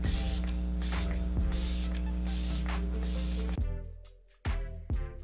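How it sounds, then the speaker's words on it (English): Olay face mist sprayed onto a face: a long hiss of spray, then several short, sharp spritzes in quick succession, close up. "now I'm going to spray her face with the Olay Mist"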